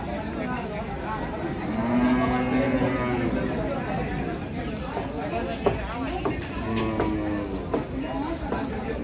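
Water buffalo lowing rises among a busy crowd of chattering voices at a village livestock market, animal calls sounding near amid the steady market hubbub.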